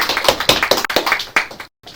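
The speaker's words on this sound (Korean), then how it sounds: "우리 목사님도 박수로 맞아." A church congregation claps to welcome their pastor, a loud, fairly rhythmic run of hand claps in a small room that continues for under two seconds before cutting off briefly.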